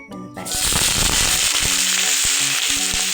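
Sesame oil in a hot pan erupts into loud, dense spluttering and crackling after a brief quiet start, continuing steadily close by with occasional tonal clinks.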